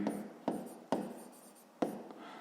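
Pen writing on paper while working a sixth-grade maths exercise, a steady scratchy stroke with four sharp taps at the start of new marks, close and quiet, with no talk.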